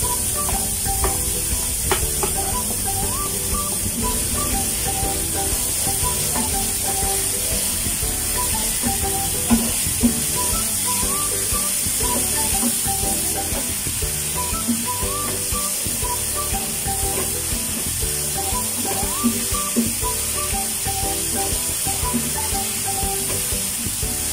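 Small chopped onions sizzle steadily in a frying pan, a continuous close hiss with light stirring scrapes throughout, while music plays faintly underneath.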